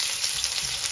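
Onions for a green Thai chicken curry sautéing in a pan, giving a steady, loud, close hiss of sizzling oil with no pauses.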